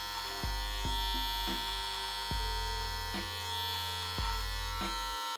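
A Wahl AquaBlade electric shaver trimming a beard hums loudly and steadily up close, its motor tone dipping and shifting in short bursts as the blades pass over the hair.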